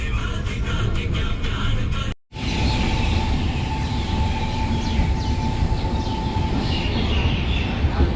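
Delhi-Amritsar Shatabdi Express pulling away from Sirhind station, heard from inside the coach as a steady, loud rumble of wheels on rails with a thin whine, briefly cut out partway through, and no talk.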